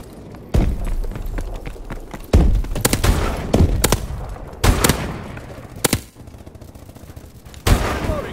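Bursts of automatic gunfire in Call of Duty: Advanced Warfare, laying down suppressive fire in a team deathmatch, with sharp loud volleys repeating every second or two over a steady battlefield din.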